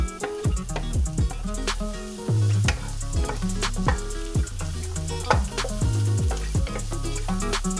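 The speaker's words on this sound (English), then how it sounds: "once this has been sauteing for about 2 minutes" Onions sautéing in a pan on a stovetop for spaghetti Bolognese give a steady, close sizzle with occasional stirring, heard beneath loud rhythmic backing music throughout.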